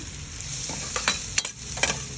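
Onion and garlic fry in hot oil for menudo, a steady loud sizzle with a few scraping stirs of the spoon and no talking.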